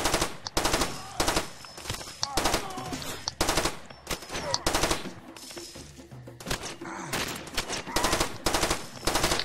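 Far Cry 2 gameplay gunfire: rapid bursts of automatic weapon fire crack loudly and repeatedly, clustered in short volleys with brief gaps between them.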